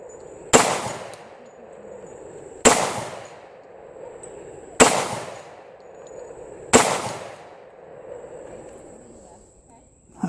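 A .45 ACP pistol fires shotshell-powder loads outdoors at a range, with four sharp, loud reports spaced roughly two seconds apart, each ringing briefly before fading.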